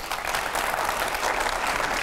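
Studio audience on a Hindi television debate set breaks into applause as guests arrive, a dense, even wash of clapping heard alone at moderate loudness for the whole stretch.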